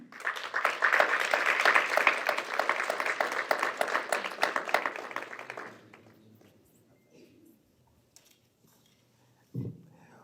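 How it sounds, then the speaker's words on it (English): Audience applause rises for a speaker at a community evening event, a dense burst of many hands clapping that lasts about five seconds before fading into quiet room tone, with a brief low thump near the end. "Put your hands together for Mr. Carroll Hynson."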